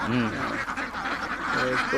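Free-range farm ducks quack loudly and close by in a short, busy burst of overlapping honking calls.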